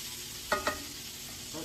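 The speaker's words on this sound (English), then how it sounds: "So we're going to let this sizzle here for a while" Mixed frozen vegetables, green beans among them, sizzle steadily and softly in a pan, with two quick utensil taps early on and no talking.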